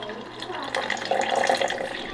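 Warm water is poured for a coffee drink, a liquid splash that grows louder and more continuous partway through and runs steadily to the end.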